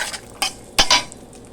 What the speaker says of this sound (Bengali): কড়াইতে প্রথমে তেল দিয়ে দিয়েছি তেল গরম হলে একটু বাদামটা ভেজে নিচ্ছি